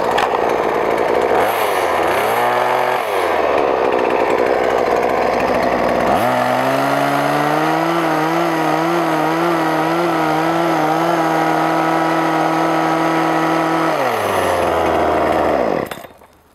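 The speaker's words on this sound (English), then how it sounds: "this is a tool, this hedge trimmer here, that can make quicker work of a longer row" A petrol hedge trimmer cuts raspberry canes at ground level, running loud and close with a buzzing motor whose pitch rises and falls steadily under load, then cuts off at the end.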